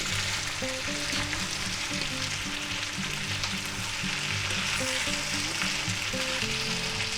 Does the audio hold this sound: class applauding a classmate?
no